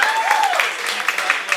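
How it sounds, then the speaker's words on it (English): An audience at a tenth-anniversary music event applauds in a steady wash of clapping, while someone speaks over it through a microphone. "So let's have the big round of applause again for Sebastian."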